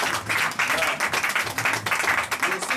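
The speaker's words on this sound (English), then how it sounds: "Then I clap for our mama." Rapid, dense clapping from a group at a traditional marriage ceremony, honouring the bride's mother, continues steadily at close range with voices talking over it.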